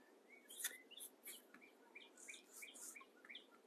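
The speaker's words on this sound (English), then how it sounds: "That's a cardinal." A cardinal's bright whistles and chirps repeat in short phrases, fairly faint and distant, over a quiet background.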